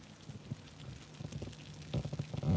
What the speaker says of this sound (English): Yeah, I love that sizzle.